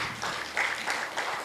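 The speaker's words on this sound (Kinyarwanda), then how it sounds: "Amashyi menshi ku Mwami Yesu Kristo." Applause from a congregation during a church service, a steady quiet patter of many hands clapping together for about a second and a half, with no talk over it.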